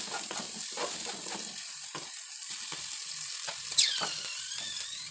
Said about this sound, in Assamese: পাচলিখিনি ভাজি হৈছেগৈ।